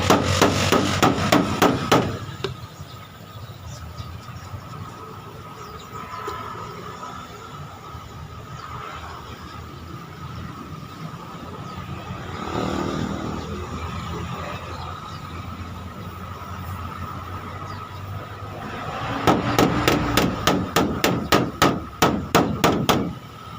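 Rapid bursts of loud metallic hammer blows ring out at the start and again near the end, with a quieter rumbling stretch between them.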